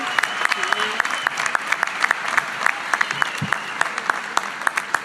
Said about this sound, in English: let's give a round of applause to each other and say congrats to your classmates